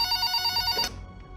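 A telephone rings in an office during a tense meeting about an investigation, a bright electronic trill that cuts off abruptly partway through, leaving a low room hum.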